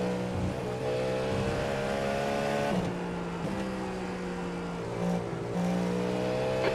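Race cars from an IMSA endurance race at Watkins Glen in iRacing, with a Cadillac GTP engine droning steadily and shifting pitch as slower-class cars are passed, continuous and close throughout.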